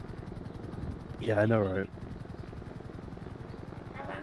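A video-game helicopter circles overhead with a steady, rapid rotor thump throughout, while someone talks briefly over it.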